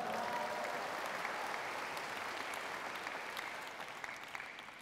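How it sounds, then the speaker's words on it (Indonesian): A large crowd at an indoor revival meeting on a tennis court in Soe gives loud, dense, sustained applause that fades slightly toward the end. "Tepuk tangan yang dahsyat."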